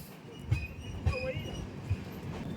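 A train pulls out of Kolkata railway station, its wagons rumbling with a few distinct wheel knocks and a brief metallic squeal over a continuous low roll, heard from inside.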